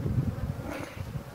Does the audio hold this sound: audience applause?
no